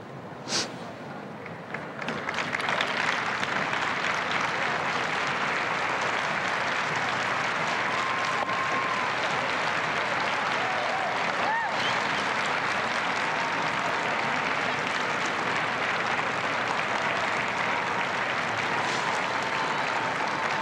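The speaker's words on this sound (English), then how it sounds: "Hear the crowd getting into it, Joe." Crowd applauding at the 1996 Westminster Kennel Club Dog Show during the Herding Group, dense sustained clapping that swells after a brief quieter start and holds steady and loud to the end.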